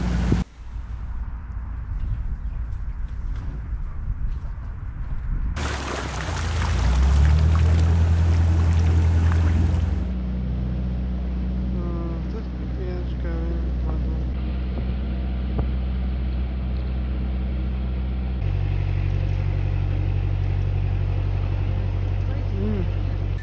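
A canal boat's engine drones steadily as it passes close by near a junction, a low rumble rising then settling, with wind noise throughout.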